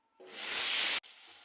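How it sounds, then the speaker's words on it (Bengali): Potato and pumpkin pieces drop into hot mustard oil and fry with a loud, steady hiss that lasts just under a second. It is cut off sharply and followed by a quieter sizzle. "তেলটা গরম হয়ে গেলে এর মধ্যে আমি আলু আর কুমড়োর টুকরোগুলো ভালো করে ভেজে"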